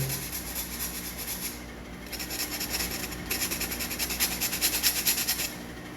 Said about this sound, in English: get rid of this glue that's oozed out the bottom. I'm trying not to sand any of the actual wood.